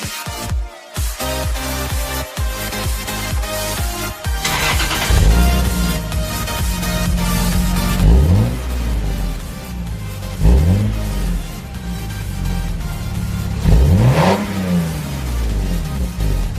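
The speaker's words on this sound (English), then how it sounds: "I still like that no muffler sound" A Lexus IS300 SportCross with its muffler removed revs hard several times, the raw exhaust rising and falling in loud, close bursts of acceleration.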